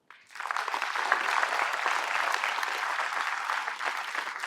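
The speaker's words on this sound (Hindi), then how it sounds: "इस बात पर ही अपने लिए जोर से ताली बजा दो" A hall full of medical entrance exam students in Delhi bursts into loud clapping after a brief silence, the dense applause swelling quickly and staying strong and steady to the end.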